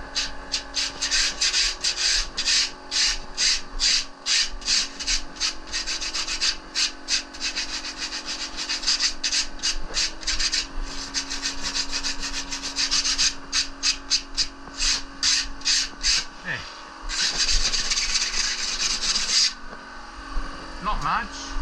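Hand rubbing or sanding lightly over a shaped workpiece to knock off small sharp fragments makes steady rhythmic rasping strokes, near and fairly loud, in quick bursts with short pauses between runs.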